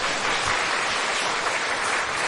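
A church congregation of elders and deaconesses claps during a Korean worship service, a loud, dense wash of applause filling the short moment without any voice over it.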